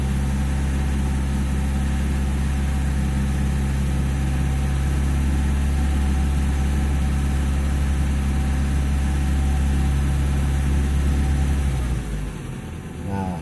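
A car engine idles steadily while warming up, a loud constant low hum close by that drops off near the end.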